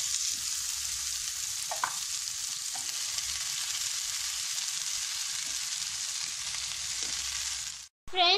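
Leafy greens sizzle steadily in a pan of oil with tempering for a soppina palya, a continuous moderate hiss with faint stirring taps, ending in a brief louder clatter.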